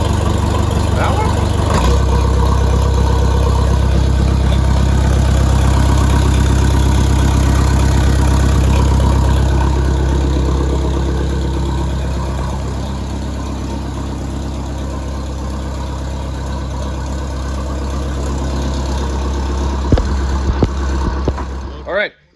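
A Triton V10 dump truck fitted with a custom exhaust idles steadily with a deep, loud low rumble that eases slightly midway, then a few clunks before it cuts off at the end.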